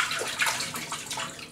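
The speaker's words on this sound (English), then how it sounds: "And then we put it in the water," A rice paper roll is dipped into water filled in a kitchen sink, giving a close, continuous splashing and sloshing with small gurgles and no talking.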